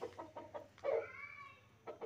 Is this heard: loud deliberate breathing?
no